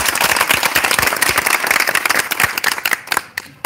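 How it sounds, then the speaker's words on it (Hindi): An audience at a mobile EMMC training institute in India breaks into brisk, crowded clapping, loud and close, with sharp overlapping hand claps that taper slightly toward the end. "एक बार तालियां हो जाए।"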